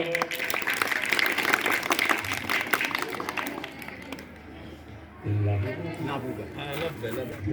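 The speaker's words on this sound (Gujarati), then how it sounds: "બાળકો જરા જોરથી તાળીઓ પાડો" Schoolchildren clapping together at a school donation ceremony, a dense burst of applause that thins out midway before a louder stretch returns, with voices heard along with it.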